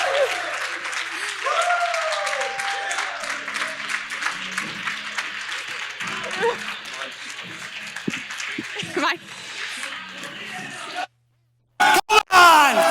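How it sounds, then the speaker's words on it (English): A keynote audience claps and cheers in a large hall, sustained crowd applause with shouts and whoops running for about eleven seconds before dropping out, followed by a few sharp bursts. "Come on, clap!"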